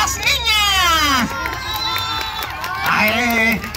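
Children and a crowd at a clown's children's game in Xochitepec, Morelos cheer and shriek for the girls, with high, wavering, excited voices that come in two loud surges.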